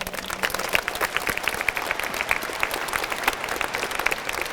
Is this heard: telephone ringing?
no